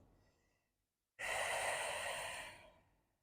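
A single slow, deep breath during prenatal yoga, one long soft airy exhale after a moment of near silence, close and quiet.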